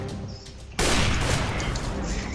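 No-scope sniper fire in the video game CS:GO bursts in abruptly partway through, a loud, dense crack of gunfire that holds steady and noisy to the end, following a quieter in-game background.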